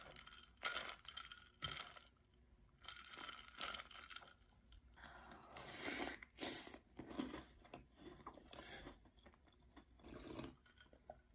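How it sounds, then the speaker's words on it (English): Bites and chewing of a cookie-dough-stuffed milk chocolate chip cookie dipped in milk, with soft crunches and wet squishy mastication repeating close up throughout, no talking. "I'm gonna take that bite right there, but we're gonna dip it in milk"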